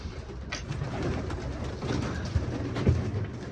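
Pigeons coo in a loft with soft, low, repeated calls that rise and fall over a quiet, muffled background.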